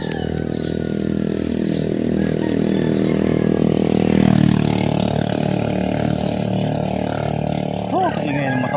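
A motorcycle engine idles and revs close by in a steady harmonic drone, swelling briefly midway then settling, with outdoor background noise.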